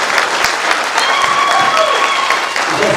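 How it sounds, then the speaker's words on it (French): Audience at a military chaplains' rank-promotion ceremony in Chad applauds, dense continuous clapping filling the room at close range for the whole stretch. "Vos acclamations"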